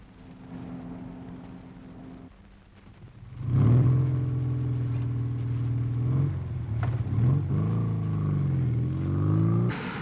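A car speeds along a road, its engine swelling from a quiet start into a loud, steady drone with a wavering pitch that climbs again near the end; no one speaks.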